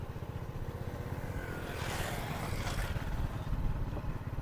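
A motorcycle ridden along a rough, damaged road, its engine drone steady and close, with rumbling and jolting texture from the uneven surface throughout.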